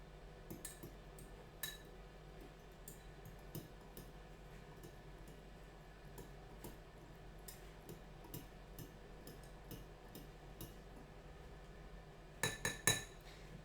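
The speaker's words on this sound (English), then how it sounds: "So let me just give it a little stir around." A utensil stirs colored liquid in a cup with soft, irregular ticks and light clinks against the sides, faint and close, ending in a quick cluster of sharper taps.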